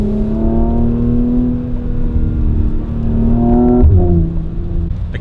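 An SUV engine revs up and eases off close by, its exhaust note a smooth droning tone that climbs, drops sharply and settles again.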